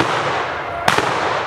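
A single sharp gunshot cracks out during a swamp rabbit hunt in thick Louisiana brush, standing out loud and close against steady outdoor background noise, with no talking.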